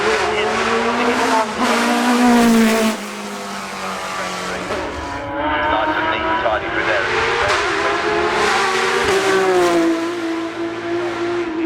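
A Porsche 911 GT3 Cup race car at Goodwood Festival of Speed 2017 roars as it accelerates, with shifts and brief tire squeal. A commentator talks over the loud engine throughout.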